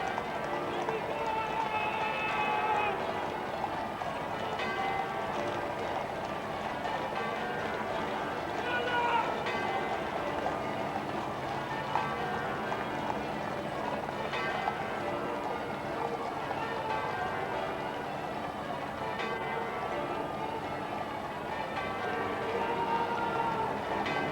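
Horses of the royal procession arrive at Westminster for the 1996 State Opening of Parliament, hooves clip-clopping steadily amid crowd noise under continuous commentary.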